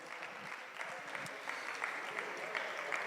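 A university research conference audience on media and communication applauds, a soft, even wash of many clapping hands heard from a distance, with a little crowd murmur.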